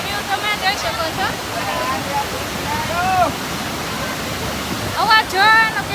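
Water roars and rushes steadily at a waterfall, a dense continuous wash of noise, while people chatter and exclaim faintly in the background.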